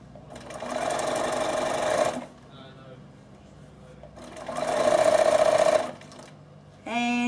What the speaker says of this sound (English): It's much easier if you just stitch it and stop and stitch it and stop.